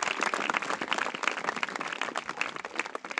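A group of schoolchildren claps together in a quick, steady burst of applause, moderately close, with no talking.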